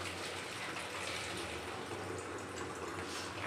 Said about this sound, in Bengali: এই যে জলের বোতল আমি ভরে নিচ্ছি